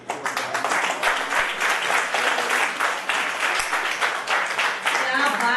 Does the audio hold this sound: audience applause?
yes